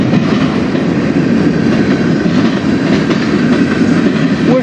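A CSX manifest freight train led by locomotive 3239 rolls past at Fostoria's Iron Triangle, a steady loud rumble with rhythmic wheel clatter on the rails, heard close and without talk.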